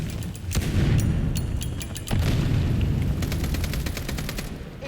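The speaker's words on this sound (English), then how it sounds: "Stop throwing grenades at me." Explosions and heavy gunfire in a Vampire the Masquerade Bloodlines 2 fight, with two loud booming blasts about a second apart over dense crackling shots and rumble.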